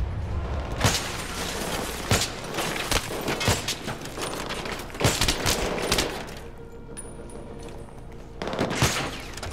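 Heavy gunfire in Battlefield 3, with repeated loud shots and rapid bursts that crack through a dense battle din, briefly easing near the end before another shot rings out.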